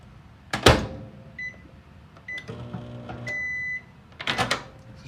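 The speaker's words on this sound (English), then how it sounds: "Microwave here." A microwave oven in a 2022 Jayco Eagle HT 29.5BHDS camper beeps and clicks as it is operated, with a short electronic tone and a steady hum for about a second, framed by handling thumps.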